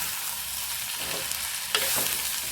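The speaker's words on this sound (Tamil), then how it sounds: "சின்ன வெங்காயம் பெரிய வெங்காயம் ரெண்டுமே கலந்து நிறையா போட சொன்னான் வெங்காயம் நல்லா வணங்கிக்கலாம்" Shallots and big onions sautéing together in a pan for dry fish thokku, a steady broadband sizzle with occasional stirring scrapes, close and moderately loud, with a brighter spatula clatter near the end.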